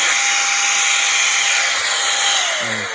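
Steady high-pitched whirring rush of a cheap cordless air duster blowing continuously, close and loud, with the motor tone sliding slightly lower near the end.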